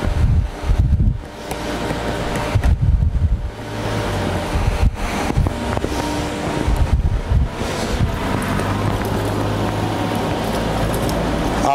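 Liquid pours from the opened valve of a disposable tote, a steady rushing wash that settles into a continuous flow after a few low bumps at the start.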